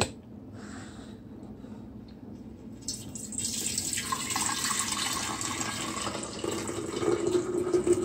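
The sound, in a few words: pouring liquid drink into container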